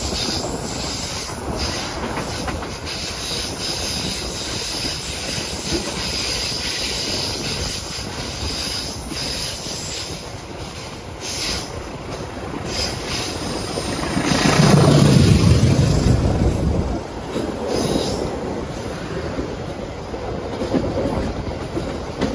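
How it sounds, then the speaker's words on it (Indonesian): The Jayabaya passenger train rolls into Jatibarang station with a steady rumble and a high, sustained wheel squeal, growing louder as the cars pass close by. "Kereta api Jayabaya tiba di stasiun Jatibarang."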